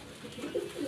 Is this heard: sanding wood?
no